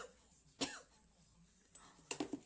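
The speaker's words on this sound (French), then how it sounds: "j'en ai marre de tousser comme ça" Two bursts of coughing, one sharp single cough and then a quick cluster of several coughs, close and fairly quiet.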